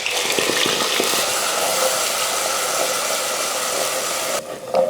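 Ground onion paste dropped into hot oil with whole spices and curry leaves, giving a loud continuous hissing sizzle up close that suddenly drops away near the end.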